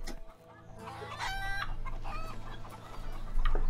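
Chickens cluck and squawk in the video game A Way Out as they are thrown, with steady clucking over a low game ambience and a louder burst near the end.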